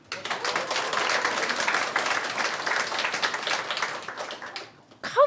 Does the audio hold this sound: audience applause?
yes